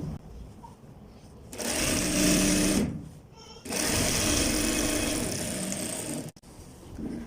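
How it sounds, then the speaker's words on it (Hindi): A sewing machine stitches large pieces of men's pajamas together in two long loud whirring runs, broken by short pauses, ending in a brief halt and restart. "अब हमने इसी तरह अपने जो बड़ी पीस हैं वो हम आपस में इनकी स्टिचिंग कर लेते हैं।"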